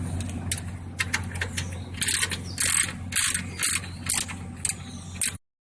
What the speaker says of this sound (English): we will first need to remove this bolt that retains the lower radiator hose.